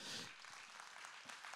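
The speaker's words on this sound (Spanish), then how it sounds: "dale el aplauso al Señor" Church congregation applauding after a call to praise, a steady wash of clapping throughout a short stretch, fairly faint and even with no voices rising above it.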